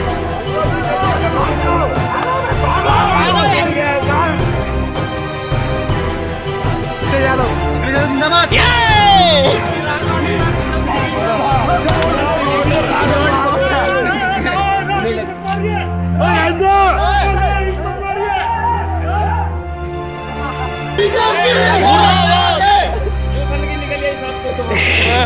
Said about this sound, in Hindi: उनका विरोध में प्रदर्शन होता हुआ